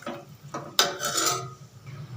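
A spoon stirring rice, dal and water in a pot: scraping, rasping strokes against the metal, with a sharp louder scrape in the middle followed by a sustained rubbing stir, close and clear.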